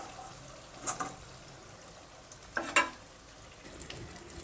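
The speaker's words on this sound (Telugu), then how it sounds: "ఇదే విధంగా మిగిలినవి కూడా మనం ఫ్రై చేసేసుకోవాలి." Fish pieces frying in hot oil give a soft, steady sizzle, broken by a few brighter crackling bursts as pieces are turned or added.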